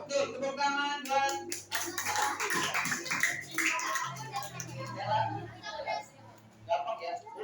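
Children clapping together in a classroom, a burst of hand claps mixed with kids' chatter and an adult voice talking over the noise.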